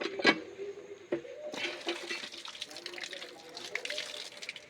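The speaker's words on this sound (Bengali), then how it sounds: "তো আগে পা হাতটা ধুয়ে নিই।" Water splashing and pouring outdoors as feet and hands are washed, with a brief sharp splash near the start followed by a steady gushing, trickling wash at close range.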